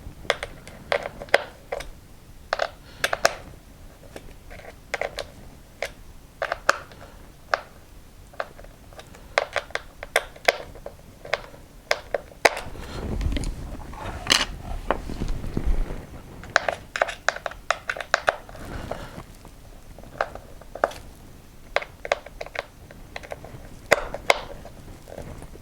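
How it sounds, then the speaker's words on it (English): Small screws being driven by hand to mount a flap servo in a CN-Models Sensor F5J glider, a string of crisp close ticking and ratcheting clicks in uneven bursts, with a brief rustle of handling in the middle. "I try to get both screws in before I tighten them up"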